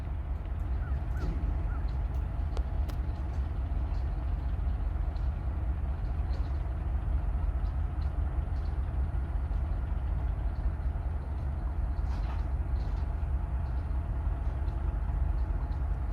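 FEC diesel locomotives haul a train across a bridge in St. Augustine, Florida, giving a loud, steady low engine rumble and rolling roar throughout, with faint crow caws above it.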